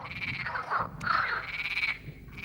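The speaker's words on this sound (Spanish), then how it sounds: "Los machos croan repetidamente." Male frogs on a spring riverbank croak repeatedly in rapid, pulsing trills, moderately faint, several calls overlapping with no voices.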